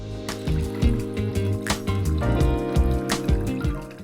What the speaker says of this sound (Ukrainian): Наливаємо яблучний бурбон. Десь мілілітрів 60. І яблучна содова.